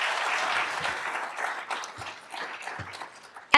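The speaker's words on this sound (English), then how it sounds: "So please give these three people a big round of applause." An audience at a 2024 kickoff event claps in a steady, full burst of applause that fades slightly, with a louder final clap near the end.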